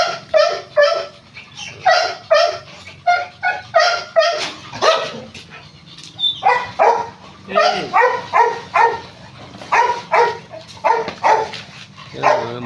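Several dogs bark and yip in rapid bursts, with whimpers in between, the barks close and loud and a voice talking now and then.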